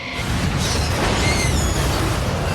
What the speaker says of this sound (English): To the best explosion ever committed to film.